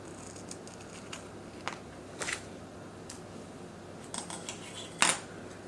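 Scissors snipping excess washi tape from a planner page, with several light, scattered metallic cuts and clicks over a quiet background, the last one sharper and louder.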